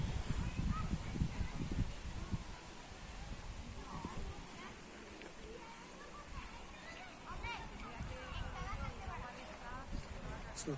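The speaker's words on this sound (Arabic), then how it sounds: "صوت البط، هذوك البطاط الصغير" Ducks and small ducklings quack and honk in a faint, scattered chorus outdoors near water, with people talking over and between the calls.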